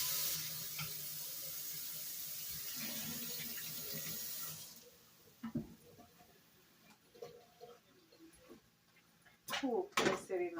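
Food washed under a running kitchen tap: a steady loud gush of water for several seconds, then quieter splashes and handling noises, with faint voices and a dog whimpering in the background.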